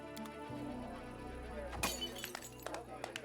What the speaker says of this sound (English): tosses the glass to the ground.